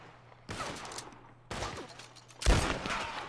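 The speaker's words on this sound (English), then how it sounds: "somebody's shooting me" Gunfire in the Red Dead Online western game: three loud distinct shots spaced roughly a second apart, each followed by a reverberant tail, the last the strongest, no voices.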